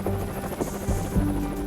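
A helicopter flying over a large forest wildfire gives a steady, dense rotor roar that fills the whole clip, with faint thumping pulses underneath and no voices.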